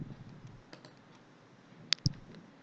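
Two quick mouse clicks at a computer running CATIA V5, faint and close, against a quiet room hiss.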